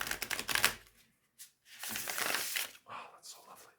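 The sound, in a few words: riffle shuffling tarot cards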